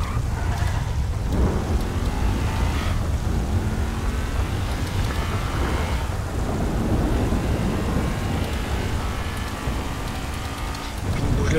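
Thunderstorm in a GTA RP video game, with steady loud rain and low rumbling thunder rolling throughout, a continuous dense wash of storm noise with no speech over it.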